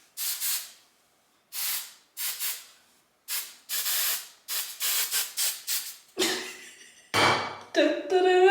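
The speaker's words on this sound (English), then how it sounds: "I literally hate when the taste of hairspray gets in my mouth" Hairspray sprayed onto hair in a series of short, close, hissing aerosol bursts with brief pauses between them, followed by a few rougher pulses at the end.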